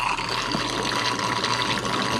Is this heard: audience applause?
no